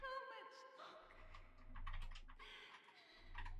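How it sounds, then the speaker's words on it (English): Computer keyboard typing rattles along in quick irregular bursts during a shark VTuber's livestream, close and fairly loud, running under a steady low hum with some faint background voices. "Stop typing!"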